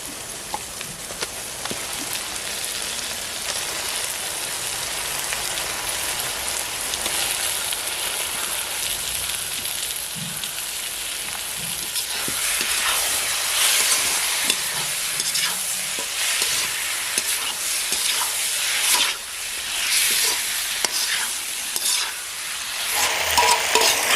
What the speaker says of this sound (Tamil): இந்த சிக்கனையும் அது கூட சேர்த்து வதக்கிடுவோம்.